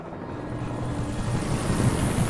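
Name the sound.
helicopter in the video game Alan Wake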